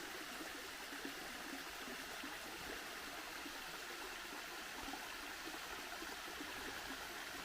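Water sliding down a broad, flat rock face at Steele Falls in the Lake Russell Wildlife Management Area, a soft, continuous wash and hiss heard from a distance, steady and fairly faint with no voices.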